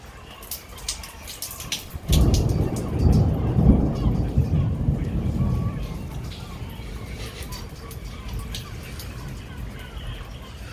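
Thunder in a storm in Emilia-Romagna, Italy breaks with a loud sudden crack that rolls into a long deep rumble, fading slowly over steady rain, with a voice speaking briefly.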